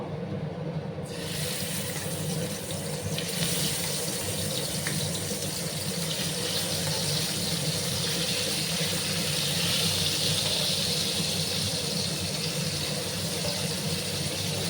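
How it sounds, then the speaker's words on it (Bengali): Koi fish fry in hot oil, a loud, dense, continuous hiss and crackle that sets in after the first second and holds steady throughout. "দেখো বন্ধুরা, তেলটা গরম হয়ে গেছে। এবার আমি এখানে মাছগুলো দিয়ে দেবো।"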